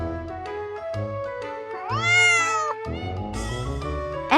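A musical meow imitating a cat, a rising and falling cartoon-like cry over a bright backing melody in a children's spelling lesson, with a short sharp accent at the end.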